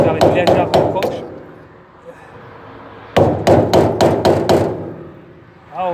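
A hammer taps a screwdriver set at an angle against the bearing cap on the wheel of an ERKA 500 kg trailer, two close bursts of four or five sharp metallic knocks separated by a quiet pause.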